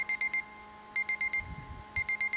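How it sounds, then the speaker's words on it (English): An alarm clock rings with rapid bursts of high electronic beeps in groups of four, pausing between groups, fairly loud and close, with faint low rumble underneath and no talk. "Why is my alarm going off?"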